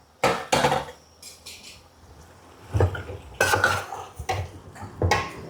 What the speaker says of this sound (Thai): ใส่มะเขือลงไปผัดเลยค่ะ